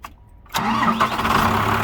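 A truck engine cranks and catches after a brief quiet moment, then settles into a loud, steady rumbling idle close by.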